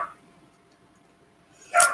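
A single short dog bark cuts in at the very end after a near-silent stretch, with a faint tail of another bark right at the start; close and fairly loud, from pet dogs at home.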